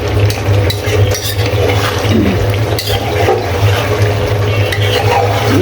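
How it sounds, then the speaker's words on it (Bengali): Potatoes being stir-fried in oil, a continuous loud scraping and sizzling with a steady low hum underneath and repeated stirring scrapes, close up and without speech. "তেল বেশে ওঠা পর্যন্ত আমি এইভাবে কষিয়ে নিব"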